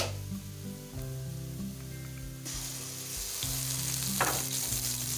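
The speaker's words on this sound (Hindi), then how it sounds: "एक मिनट तक इसे फ्राई करेंगे।" Garlic, ginger and green chili paste frying with browned onions in a pan for a mixed vegetable dish of potato, peas and carrot, a loud continuous sizzle with an electric hum beneath and occasional stirring, no speech.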